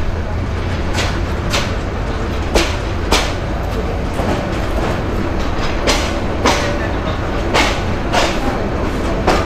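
Loud rumble of a moving two-coach passenger train in Bangladesh heard from inside, wheels clacking rhythmically over rail joints, with voices talking beneath the steady roar.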